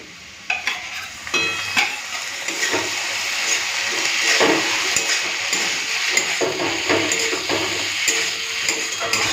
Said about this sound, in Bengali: পোস্তটা দিয়ে না একটুখানি ভালো করে ভেজে নিয়েছি